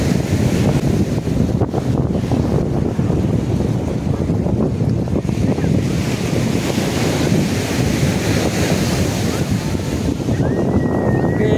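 Loud, constant roar of wind buffeting the microphone over rushing surf at Juhu Beach, Mumbai, with no clear breaks between waves.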